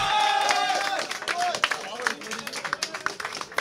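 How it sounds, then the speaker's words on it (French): Scattered clapping from a small audience at a gaming magazine's anniversary party, quick irregular claps close by, with some voices and cheering mixed in at the start. "On accueille Dark Kubi, s'il vous plaît, avec les applaudissements."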